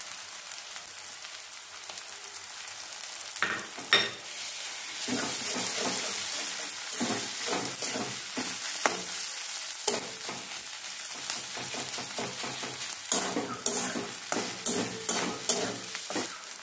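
Vegetables with green chilli and ginger paste stir-fry in a pan, a continuous close sizzle broken by many rhythmic scraping stirs that grow busier toward the end.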